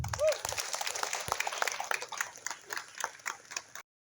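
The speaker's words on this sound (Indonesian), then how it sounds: "Tepuk tangan." Applause at a political gathering in Indonesia, with a cluster of distinct, scattered hand claps of moderate loudness mixed with faint crowd noise. The clapping stops abruptly near the end.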